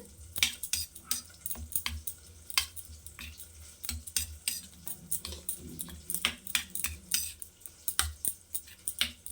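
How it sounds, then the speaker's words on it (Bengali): Eggplant mixed with raw mustard oil and chopped leaves in a bowl, rapid close clinks and squelching stir strokes of a spoon in an irregular rhythm, no voices. "এবার এগুলোকে খুব ভালো করে মিশিয়ে নেবো একসঙ্গে"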